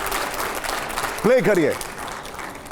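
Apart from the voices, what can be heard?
audience applause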